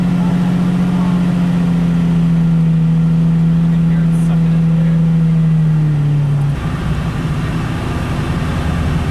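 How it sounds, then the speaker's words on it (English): A Lamborghini Diablo 6.0 VT idles close by with a loud, steady, throbbing engine note that holds even and then shifts in tone toward the end, with no talk over it. "So what the Diablo is going to do is go from about 1100 to 1200 RPM."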